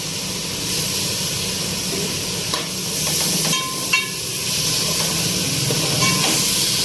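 Mint and tamarind frying in a pan for a tomato pachadi, a steady hiss and sizzle with a few light clinks of stirring, fairly close and without talk.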